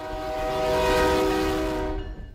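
A train horn blares in one long sustained chord at a railroad crossing in a small prairie town, loud and steady before cutting off abruptly at the end, with rumbling rail noise underneath and no voices.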